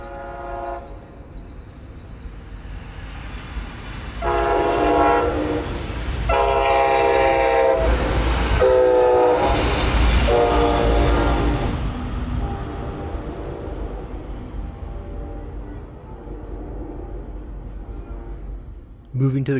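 A northbound Brightline train at a downtown Melbourne crossing sounds its horn in several long blasts over a loud, steady rumble of passing coaches, fading to a quieter roll afterward.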